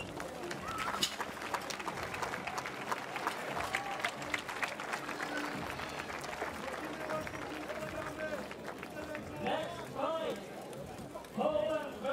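Crowd cheering and applauding at a motoball world championship match in Spottrup, Denmark, a sustained roar of noise with scattered claps and whistles throughout and a commentator talking over it.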